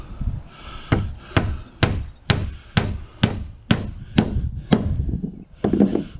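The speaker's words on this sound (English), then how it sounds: "I'm going to come back and put a nail every 6 inches." Hammer driving nails into porch decking, a steady run of about a dozen loud, close, sharp blows at a regular rhythm, each with a short ringing decay.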